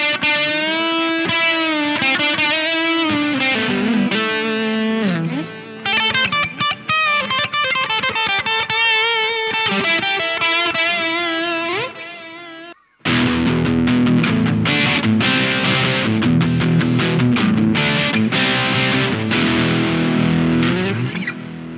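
Electric guitar played through an AMT S1 Soldano distortion pedal with gain at 25% and EQ centered, first sustained melodic notes and bends, then a brief pause and thick chugging chords, loud and alone.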